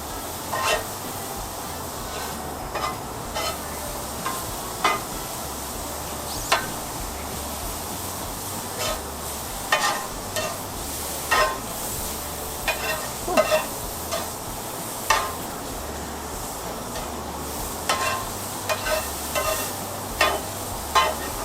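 A mushroom and Swiss smash burger frying on a stove-top griddle, a steady low sizzle broken by repeated scraping and tapping of a spatula at an irregular pace.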